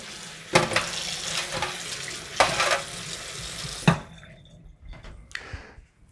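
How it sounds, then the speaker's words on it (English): Tap water runs and splashes over strawberries in a sink, with soft thumps and rustles of handling, then the flow stops and a few drips and light knocks follow. "So just go ahead and give your berries a good rinse."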